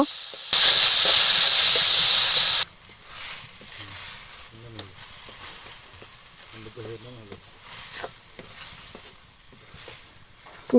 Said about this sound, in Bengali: এখন সিদ্ধ করা লাল শাকগুলো দিয়ে দিচ্ছি। বাগারের সাথে লাল শাকগুলো ভালো করে মিশিয়ে নিব।